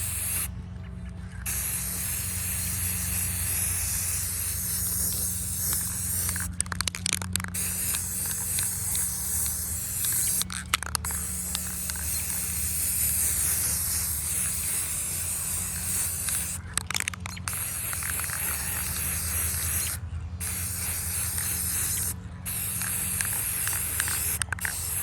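A Rust-Oleum matte finish aerosol can spraying onto a lantern, long close hissing bursts broken by brief pauses between passes, loud and continuous over a low background hum.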